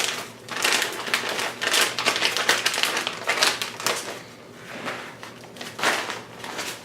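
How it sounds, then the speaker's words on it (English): Crinkly plastic vacuum seal bag edges being folded back by hand before packing seasoned beef short ribs, a run of close, dry rustling and crackling bursts with brief pauses, no talking. "Just going to fold the edges back so we don't get anything on our seal."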